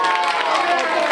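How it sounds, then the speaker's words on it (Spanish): Audience at a puppet show in a culture house giving a short burst of dense, steady applause, fairly loud and close. "¡Fuerte el aplauso para mi perro!"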